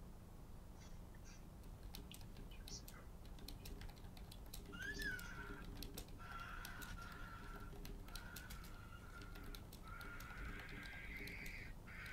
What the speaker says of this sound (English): Your bird kind of sounds like a raptor.